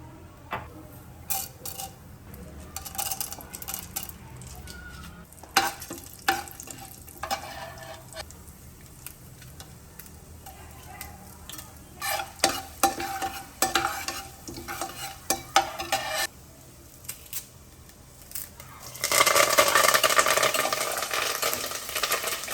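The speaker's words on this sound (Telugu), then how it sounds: "ఆయిల్ కూడా వేడెక్కిపోయింది పోపులు వేస్తున్నాను" Tempering spices crackle in hot oil in a home kitchen, with scattered spoon clicks and stirring, then a loud, steady sizzle near the end.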